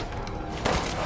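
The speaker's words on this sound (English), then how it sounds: "I'll shoot you a few times." Gunshots from a firearm in the survival horror game Resident Evil Village, with a brief, loud burst of gunfire landing within about a second over a dense game soundscape.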